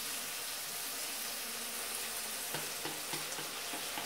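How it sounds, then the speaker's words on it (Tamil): Tomatoes sautéing in a pan while fish kulambu cooks, with a steady sizzle and frying hiss throughout and a few soft stirring knocks near the end. "தக்காளியை போட்டு நல்லா வதக்கி விடுங்க"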